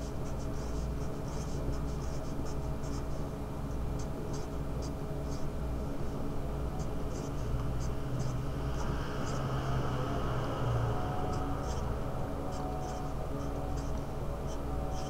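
Marker or pen drawing a carbon molecule by hand during an organic chemistry nomenclature lesson, a steady scratchy squeak of strokes on a board running continuously at close range, with no talking.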